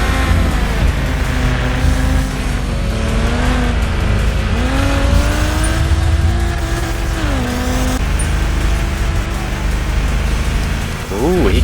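A race car in the video game Revhead accelerates, its engine tone rising and falling through gear changes, loud and steady, with a voice talking over it.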